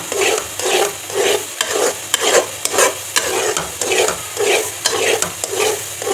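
A spoon stirs thick egg halwa cooking in ghee over a low flame, rhythmic scraping strokes about twice a second against the pan over a soft sizzle, close and clear with no voices.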